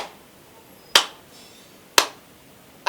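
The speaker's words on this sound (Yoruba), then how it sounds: "àtẹ́wọ́ 21 tí wọ́n pa tá a wí yìí" Ritual hand claps during a Yoruba ceremony in Aje town, Oyo State, part of a count of twenty-one: single sharp claps spaced about a second apart, loud and close, with quiet between.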